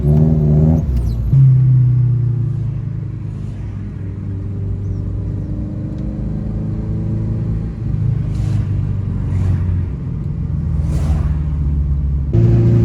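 An 80s-90s Opel Kadett with a 1.6 non-turbo engine accelerating, a close, loud engine rumble that rises in pitch through the gears, easing between shifts and building again, with no talk.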